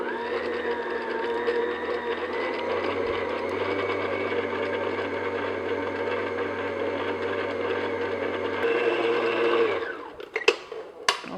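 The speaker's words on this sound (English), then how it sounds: "I'm just going to beat that until the sugar is beat into the butter" Butter, sugar and vanilla being beaten in a bowl with an electric mixer, a steady close motor whir that rises slightly before switching off, followed by a few clinks.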